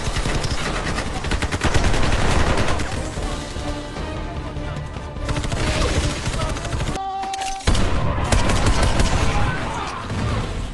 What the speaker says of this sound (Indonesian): terjadi baku hantam tembak-tembakan antar mereka dengan bajak laut tersebut.